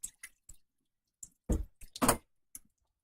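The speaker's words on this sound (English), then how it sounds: "And rinse it off because it usually comes really salty." Seafood mix rinsed with filtered water in a colander, heard as a few short, close splashy bursts of water separated by quiet gaps.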